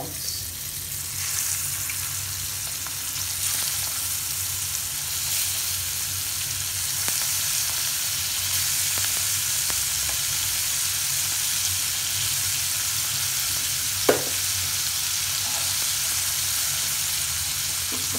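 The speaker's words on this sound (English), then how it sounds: "Let them fry for a while." Prawns frying in a pan with salt, a steady, loud sizzle and hiss throughout, with one faint clink partway through and no talking.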